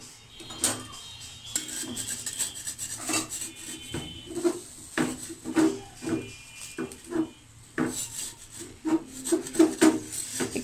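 A utensil presses and scrapes egg chitoi pitha loose from the pan, giving close, irregular rasping and rubbing strokes with occasional light metallic clinks, with no talking.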